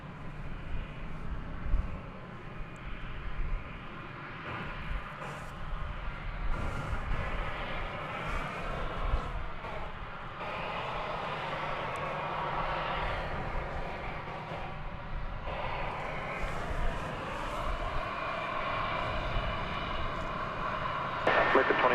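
An American Airlines airliner, flight 2659, at DFW Airport runs its engines in a steady, loud roar that holds and swells slightly, with talk over it.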